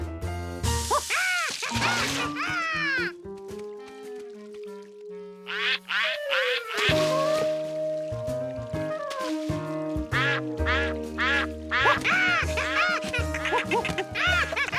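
Ducks quack repeatedly in a Curious George cartoon over a bouncy, playful musical backing, with cartoonish sound effects mixed in.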